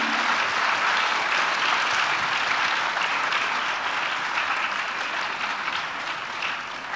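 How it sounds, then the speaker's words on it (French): Sustained audience applause for the speakers of a round table on French geostrategy, a steady full wash of clapping that fades slightly toward the end. "on peut remercier et applaudir les intervenants à cette table ronde"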